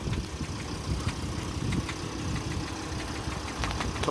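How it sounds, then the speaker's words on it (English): Diesel engines rattling away on poor local fuel on Orkney, a steady, dense mechanical clatter with sharp knocks running throughout, fairly close and loud. "there's diesel engines rattling away"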